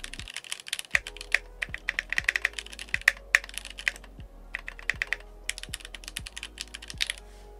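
Typing on a stock Keychron Q3 TKL mechanical keyboard, close crisp clacks in quick irregular bursts with short pauses, each keystroke sharp and distinct, no talking.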